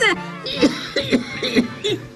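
A woman coughs several times in quick hoarse bursts, close and fairly loud, the coughs running together like a short fit.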